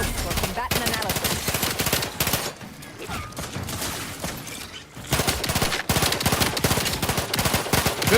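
Rapid automatic gunfire from The Outer Worlds 2 video game, dense loud bursts that fill most of the span with a brief quieter lull in the middle, with a voice speaking underneath.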